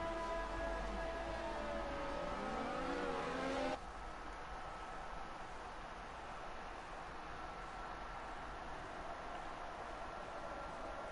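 Formula 2 race cars on the formation lap at Bahrain, engines droning with rising and falling pitch that gives way to a steady, loud roar of passing traffic.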